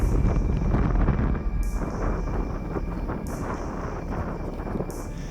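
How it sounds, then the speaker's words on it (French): Steady wind roars and buffets the microphone high on Mont Blanc, a continuous low rumble with no voices. "le vent se lève, il fait froid"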